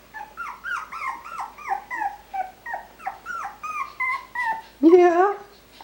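A Coton de Tulear puppy whimpers close by in about a dozen short, high, rising-and-falling whines in a steady rhythm, ending in a louder, longer yelping cry.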